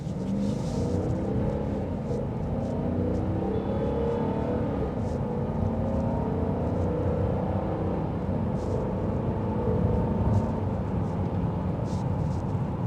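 2026 Dodge Durango GT Blacktop Redline with a Hemi V8 under acceleration, a steady, deep engine rumble with road and wind noise heard from inside the cabin, continuous and fairly loud without speech.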